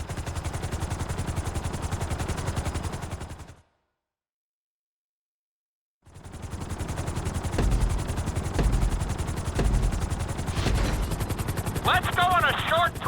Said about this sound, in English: we're going to put you in a helicopter for this lesson